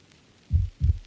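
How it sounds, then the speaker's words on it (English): Two deep, thudding heartbeat pulses in a metal song's pre-breakdown, loud and close, followed by the start of a sharp hit. "Heartbeat."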